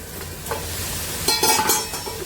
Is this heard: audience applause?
no